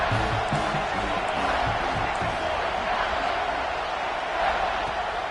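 Stadium crowd roaring steadily throughout a college football game in College Football 26, Michigan against USC, a dense sustained wall of cheering with a slight swell near the end.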